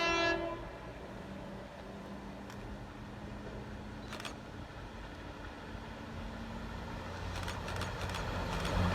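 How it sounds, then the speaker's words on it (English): A passenger train on the Wigan North Western service at Heaton Chapel opens with a short horn blast, then a steady rail rumble builds as the carriages roll past. "Ah, this will be the Wigan North Western service,"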